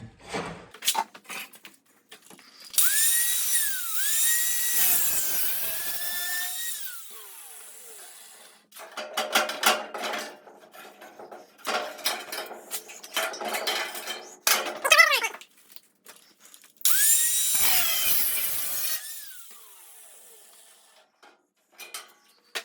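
Sheet-metal firewall panel for a 1966 Mustang being cut, heard as two loud, sustained bursts of screeching, whining metal cutting with quieter clanks and scraping in between.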